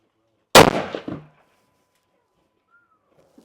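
A single loud rifle shot from 6.8 Western Barnes Reserve ammunition, a sharp close blast with a short fading echo, then near silence.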